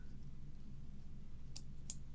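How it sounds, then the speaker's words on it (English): Small scissors snip loose thread ends on a homemade address book, giving two quick, faint clicks about a third of a second apart over a low, steady room hum. "just grab a little pair of scissors"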